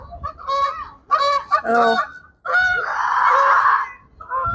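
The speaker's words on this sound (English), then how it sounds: "And the geese are saying good morning." Geese honk at a historic zoo in Winnipeg, loud and close, in a run of repeated nasal calls with short gaps and one longer, harsher burst. A brief voice exclaims once.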